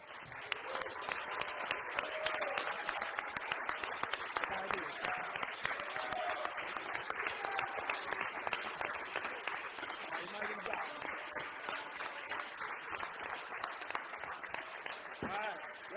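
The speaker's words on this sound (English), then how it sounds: "I think all the classmates should stand up too and get a round of applause." At a city council meeting, a room of people gives classmates a steady round of applause, with dense clapping that lasts throughout and faint voices mixed underneath.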